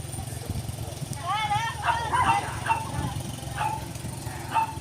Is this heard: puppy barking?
yes